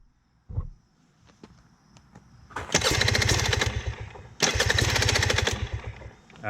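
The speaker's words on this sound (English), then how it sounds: "So all right, so we're gonna start the bike up now" A small two-stroke motorcycle engine kicks over after a couple of light clicks, then revs loudly in two long bursts with a short drop between them, close by, no talk.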